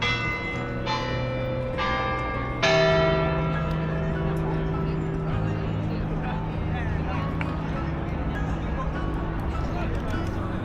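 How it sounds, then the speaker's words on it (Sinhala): Copenhagen town hall bell striking the hour, several loud ringing strokes with long resonant decays over distant street hubbub. "අන්න ඒ වගේ මෙහි පැය කාලෙට මේ බෙල් එක ගහනවා."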